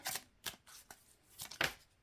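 Cards are shuffled in several quick, crisp riffling bursts separated by short pauses, close and fairly quiet.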